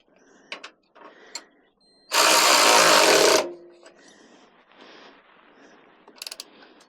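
A ratchet tightens Harley-Davidson header bolts with one loud, steady burst of clicking lasting about a second, surrounded by quieter scattered mechanical taps and handling noises.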